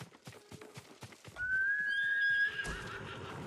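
Horse in the video game Ghost of Tsushima gives a loud, drawn-out whinny with a high whistling tone, after a run of rhythmic hoofbeats.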